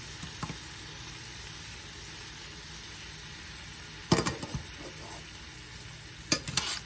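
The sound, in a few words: beet greens cooking in a pan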